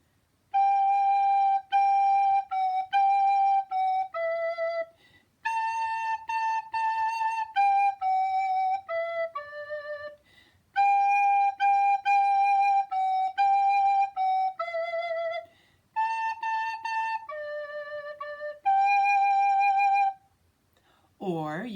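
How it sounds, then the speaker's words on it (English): A soprano recorder plays a simple tune at a slow, even tempo, each pure note held in phrases separated by short rests, close and clear, with a brief vocal sound at the end. "you can go a little slower with your tempo"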